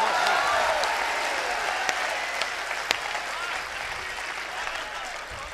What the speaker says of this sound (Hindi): इतनी तालियां तो मैंने पिछले 10 साल में नहीं देखी साहब